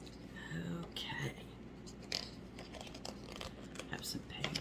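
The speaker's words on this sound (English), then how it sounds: "Have some page turning here." Soft crinkling and rustling of paper pages turning in a Winnie the Pooh book, quiet and close, with a few brushing sweeps alongside soft-spoken voice.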